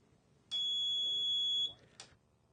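A shrill electronic ice-fishing tip-up alarm buzzer sounds for about a second, then a short second chirp follows, loud against quiet background.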